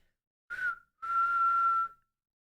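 A person whistles two clear, steady high notes alone, a short one followed by a longer sustained tone, close and fairly loud.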